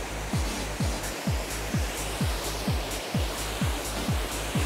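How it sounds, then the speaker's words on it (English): Waterfall water crashing over rocks, a loud continuous roar of rushing water with a regular low glugging pulse repeating roughly every half second beneath it. "the water is actually hitting all the rocks as it goes, and it's creating like this glugging sound"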